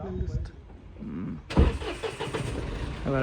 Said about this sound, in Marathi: diesel engine